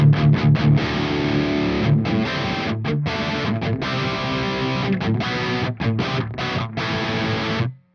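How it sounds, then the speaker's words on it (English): Heavily distorted electric guitar through a distortion pedal switched to its high-gain setting, chugging rhythmically with short stops, loud and saturated, ending in a sudden cutoff. "this switch here is now on the high gain setting"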